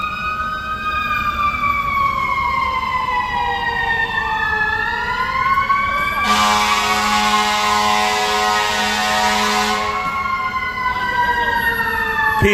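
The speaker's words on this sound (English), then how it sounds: "How many times do we hear sirens a day?" A fire engine siren wails nearby in city traffic, its tone sweeping up and down, then switching to a harsh rapid yelp for several seconds before returning to the slow wail, loud and continuous.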